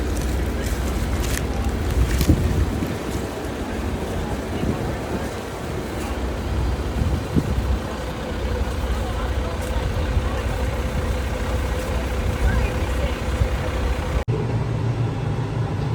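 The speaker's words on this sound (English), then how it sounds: "It's nice and bumpy to experience this ride with me like you're actually in the tractor" Steady low tractor engine rumble with rattling and jolting thumps throughout, bouncing over a rough silage corn field, recorded from inside the cab.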